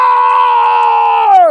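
A person's voice imitates a lion roar with one loud, sustained, strained tone held for about a second and a half, sliding slightly downward at the end, close to the microphone.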